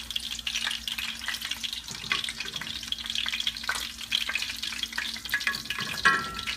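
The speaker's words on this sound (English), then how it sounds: "Very carefully, you're going to put them just one by one right into the sauce." Meatballs are set one at a time into a pan of hot sauce, which sizzles and bubbles steadily throughout, close and moderately loud, with no talking.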